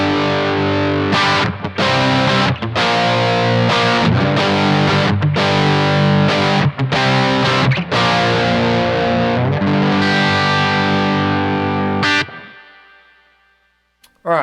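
Electric guitar runs through a Bluguitar Amp1 with a Headrush unit in the effects loop, producing loud, distorted chords with echo and chorus that play in steady bursts and then ring out and fade near the end.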